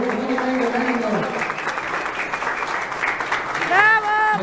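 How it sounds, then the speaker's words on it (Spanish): Audience applause breaks out at an award ceremony for recognitions, a sustained spread of clapping under a speaking voice, with another voice rising at the end. "Aplausos, gracias, por favor."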